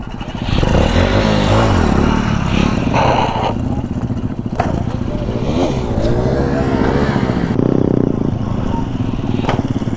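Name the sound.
motorcycle engine revving during a wheelie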